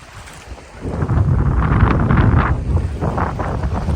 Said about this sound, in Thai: เสียงน้ำไหลพี่น้อง